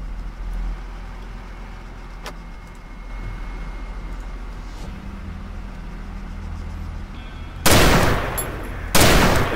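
Gunfire from the military shooter game Arma 3 arrives as two loud, sudden bursts near the end, after a long stretch of low ambient rumble and faint distant noises.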